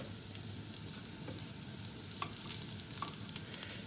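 Feta-filled borek cigars fry in a pan, giving a quiet, continuous sizzle with a few soft crackles and light utensil taps near the end.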